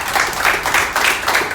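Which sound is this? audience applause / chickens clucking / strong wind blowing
audience applause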